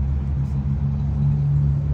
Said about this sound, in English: driving an 8-cylinder gas-guzzling SUV